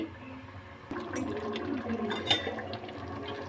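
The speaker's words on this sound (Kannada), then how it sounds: "ನಿಮಗೆ ಎಷ್ಟು ಬೇಕೋ ಅಷ್ಟು ನೀರು ಕ್ವಾಂಟಿಟಿ ಹಾಕ್ಕೊಳ್ಳಿ" Water pours into ground masala cooking in a pan for avare bele saaru, a close gushing and bubbling that starts suddenly after a quiet moment and carries on to the end.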